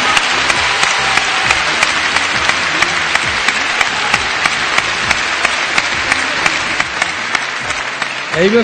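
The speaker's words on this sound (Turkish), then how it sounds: "alkış." Loud, continuous audience applause for an award-winning singer at a music award ceremony, with sharp claps standing out and faint voices and crowd murmur underneath.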